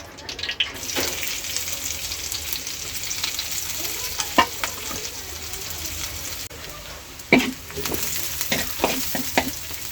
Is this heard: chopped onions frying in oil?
yes